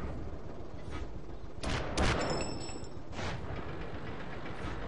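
Tank gunfire in World of Tanks, a couple of muffled cannon blasts with rumbling tails over a steady engine drone, moderately loud, with no talking.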